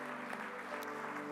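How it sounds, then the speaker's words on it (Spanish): Loud applause from a church congregation during a sermon, a dense, even wash of clapping that holds steady for about a second without any voice over it. "ahora sí, es un aplauso bien fuerte."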